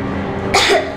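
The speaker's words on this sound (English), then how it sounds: "I have this cough." A young girl named Nastya coughs in the video game Metro Exodus, two short harsh bursts close to the ear over a faint low background hum.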